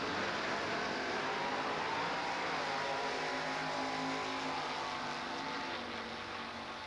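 Chevelle Super Sport drag cars race down the Raceway Park quarter mile, a steady, dense engine roar that holds loud throughout and eases slightly near the end, with no talk.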